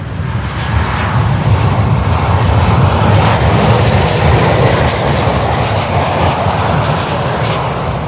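A Spirit Airlines airliner at Miami airport roars past with a loud, sustained jet engine rumble and hiss, steady for several seconds with no voices.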